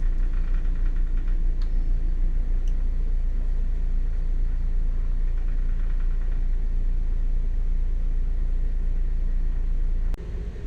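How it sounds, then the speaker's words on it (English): Boat engines run steadily after casting off from the dock, a continuous low rumble holding at an even level throughout before easing slightly at the very end. "So I suggest we start the engines."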